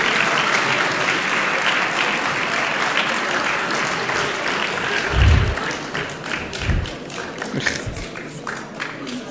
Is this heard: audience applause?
yes